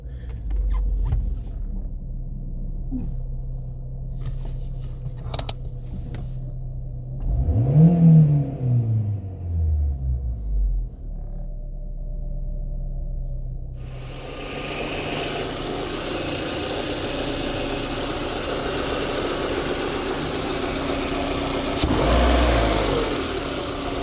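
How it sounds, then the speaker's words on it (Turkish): A car engine idles unevenly with a rough, fluctuating idle. The low hum rises and falls in a couple of brief surging swells, and steady mechanical noise fills the background. "Rolanti dalgalanması var."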